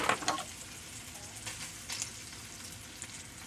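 Hot links sizzling in a frying pan for breakfast tacos, a soft steady crackle of frying with a few brief scrapes and bursts as the sausages are turned over.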